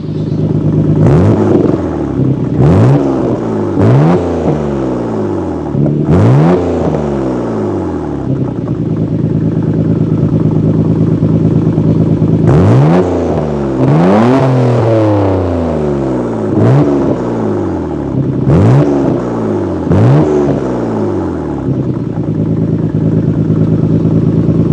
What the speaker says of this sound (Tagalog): Ito ang ipinagmamalaki at iconic na makina ng isang R32 Skyline GTR.